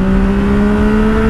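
Yamaha MT-09 motorcycle engine holding a steady, loud high rev with a strong sustained tone, rising sharply at the very end.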